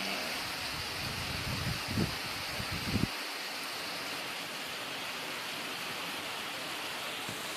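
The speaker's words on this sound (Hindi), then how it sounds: "यहीं से बारिश का आनंद लेते हैं" Steady, dense rain hisses evenly throughout, with a few low thumps early on before the patter continues alone.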